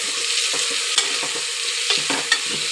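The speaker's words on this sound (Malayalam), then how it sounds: "ഇനി അത് നന്നായിട്ടൊന്ന് വഴറ്റി കൊടുക്കുക." Onions being stir-fried in a pressure cooker for biryani, with a continuous bright sizzle and repeated scraping stirs and a few light metallic taps, close up and free of speech.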